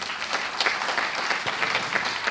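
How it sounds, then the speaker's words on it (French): An audience at an award ceremony applauds a trophy presentation, with brisk, continuous clapping from a medium-sized crowd, even and moderately loud, with no talking over it. "Félicitations, on peut applaudir."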